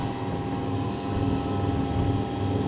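A centrifugal pump test rig runs with its shaft speed being raised, giving a steady, loud mechanical drone and hum with no voices over it.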